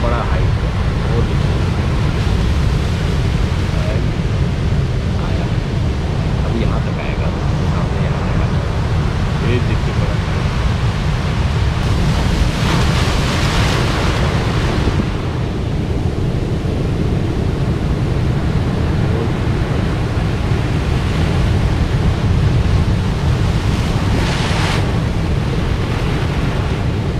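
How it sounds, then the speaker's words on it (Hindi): High-tide ocean waves roll onto a beach, a loud continuous rumble and wash with surges as the bigger swells break, while someone talks over the surf. "परसों बीच पे हाई टाइड अगर आप देखेंगे, ये देखिए वो सामने वाला आ रहा है, बड़ा हाई है।"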